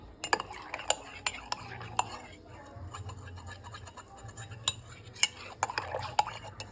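A spoon stirring a hot drink in a cup, with light repeated clinks and scraping taps against the cup scattered irregularly at close range over a low background hum.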